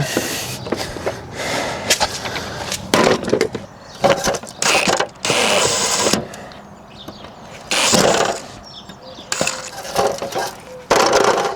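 A wrench works on an old, seized bolt that just spins, giving repeated ratcheting clicks and metallic clinks in bursts, with short pauses between turns and a faint voice now and then.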